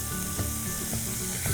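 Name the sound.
ginger frying in hot oil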